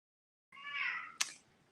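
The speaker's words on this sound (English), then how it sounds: "my cat gets very noisy for some reason" A house cat lets out a single close, clear meow after a moment of silence, followed by a sharp click or tap.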